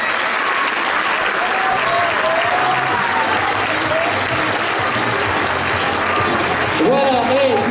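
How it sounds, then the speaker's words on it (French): Crowd at a national athletics meeting in Carquefou applauding a woman finishing the international 5000 m, sustained clapping throughout with an announcer's voice talking over it and a louder swell near the end. "moi je vous demande d'applaudir celle qui va en terminer"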